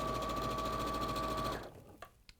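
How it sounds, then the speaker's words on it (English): Sewing machine running steadily as two pieces of quilt fabric are stitched right sides together, a continuous close whirring hum for about a second and a half before stopping, followed by a few soft clicks and handling noises. "I'm now going to sew these 2 together, right sides together"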